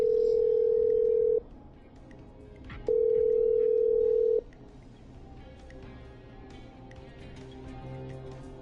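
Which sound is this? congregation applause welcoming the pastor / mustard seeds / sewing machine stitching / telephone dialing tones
telephone dialing tones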